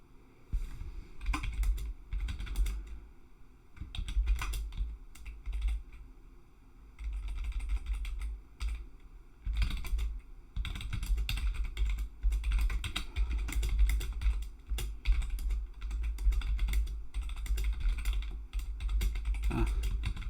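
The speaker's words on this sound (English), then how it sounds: "not used to this keyboard" Someone types on an unfamiliar computer keyboard during a Python coding livestream, with rapid close key clatter in bursts and short pauses.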